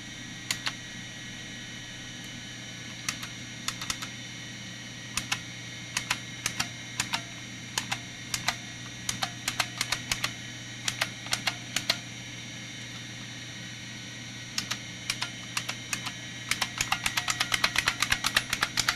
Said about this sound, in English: Basically, this is just an excuse for me to type on the Model M keyboard.